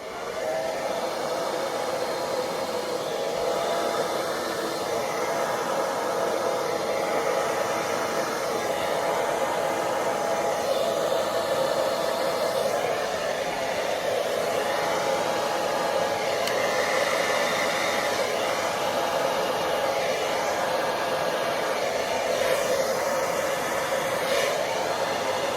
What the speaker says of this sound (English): I blew that out with the blow dryer on low the entire time